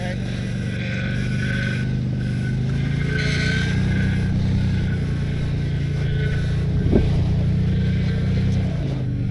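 A stuck car's engine drones steadily while the wheels slip and spin in place, a continuous low rumble that swells a little partway through, with someone talking over it.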